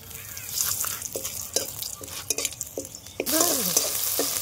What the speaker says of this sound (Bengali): দমের জন্য আমাদের তেজপাতা আর শুকনো লঙ্কা প্রথমে দিয়ে দেবো